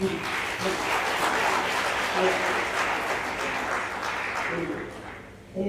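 A congregation at a Hindi Christian retreat claps for the Lord, a dense, steady wash of hand claps filling the room for several seconds before thinning at the end, with voices mixed in.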